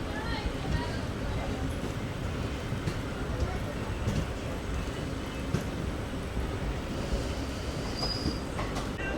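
India's first hydrogen train pulling out of Pindara Junction on the Sonipat to Jind route, a steady low rumble of wheels rolling on rails from inside the coach, with occasional faint squeals and someone talking over it.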